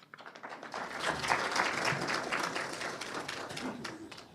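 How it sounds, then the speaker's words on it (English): An audience at an evening lecture-series event applauds after a welcoming speech, clapping swelling in quickly and holding as a dense, moderately loud patter in a hall. "Another loud applause for Ambassador Pendananda"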